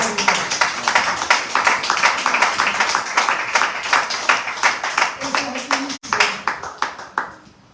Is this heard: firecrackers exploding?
no